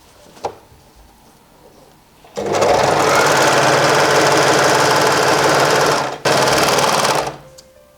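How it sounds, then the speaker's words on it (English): After a short quiet lead-in, an overlocker finishes a loose fabric seam with a loud, steady high-speed whir that runs several seconds, pauses briefly, then resumes before stopping. "I'm going to overlock this because my fabric is quite free"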